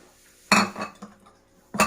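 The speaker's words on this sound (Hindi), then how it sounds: "अब उसको मैं इसमें मिक्स कर रही हूँ" Clinks and scrapes of a spoon mixing chickpeas, onion and cubed boiled potatoes in a bowl, with two sharp clatters and quieter scraping between them, close and moderately loud.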